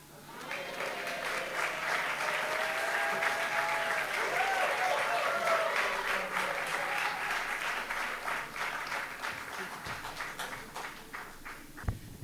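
Sustained applause from an audience at a community Lunar New Year and Black History Month celebration, dense clapping rising quickly, holding steady for several seconds, then thinning out near the end.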